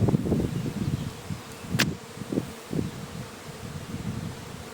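A honeybee swarm arriving at a hive, a steady buzzing hum from many bees mixed with rustling and light wind, moderately close.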